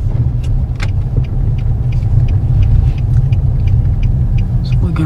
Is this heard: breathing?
no